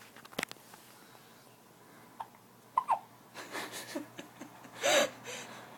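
Small baby hiccups from infants, heard as several short, sharp hics at uneven intervals. A couple of soft babbling or breathy sounds come between them, close by in a quiet room.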